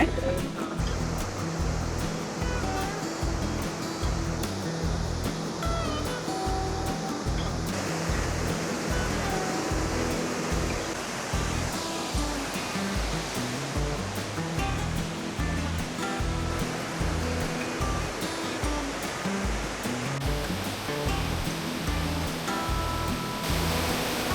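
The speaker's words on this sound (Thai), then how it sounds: "นี่ข้างหลังก็จะเป็นน้ำตก" A large waterfall in Thailand roars loudly and steadily behind a rocky outcrop, a dense continuous rush of falling water that fills the whole stretch.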